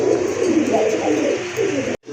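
Pigeons for sale, including a big red-coloured pair, give a continuous low cooing close up, rolling and overlapping for about two seconds before cutting off abruptly.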